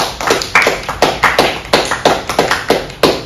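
Students clap in unison for the school office and lunchroom staff, a steady rhythmic series of about ten loud, sharp claps spaced evenly in a classroom or gym, with no talking.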